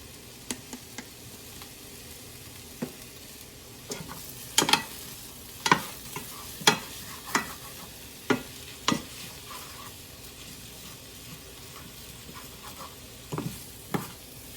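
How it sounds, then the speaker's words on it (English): Garlic and beet greens frying in a pan, with a soft continuous sizzle under a run of sharp scraping stirs that come in irregular strokes, close and fairly quiet, no talking. "Mix it up. Blend the garlic and the greens."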